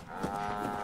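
A Brahmin cow in the video game Fallout gives a single short, low moo over a steady game background hum, close and clear.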